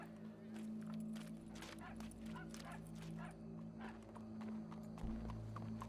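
A horse's hooves clip-clop at a steady walking rhythm in the Red Dead Redemption 2 video game, quiet and close over a low, constant background hum.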